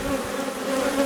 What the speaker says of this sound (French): Bon bah c'est bien couvert d'abeilles